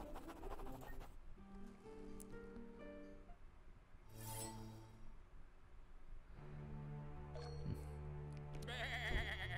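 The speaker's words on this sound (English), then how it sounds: "Your sheep bawed angrily at a rock." A sheep bleats in the video game Across the Obelisk, with several wavering cries over a synthetic ambient backdrop, louder bursts near the end.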